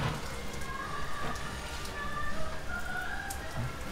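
Steady rain falls in bad weather, a dense, even hiss of drops on surfaces throughout, moderately quiet, with no voices.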